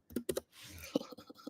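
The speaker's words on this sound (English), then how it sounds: "So my concentrating face is me typing." Quick clicking keystrokes on a computer keyboard, a few close taps in uneven bursts with a soft breathy hiss between them.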